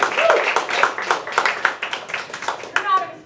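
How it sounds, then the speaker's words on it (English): Audience applause at a morning club meeting, a short burst of close, uneven hand clapping mixed with talking and a voice. "Please give her a big round of applause, Julia Kaufman."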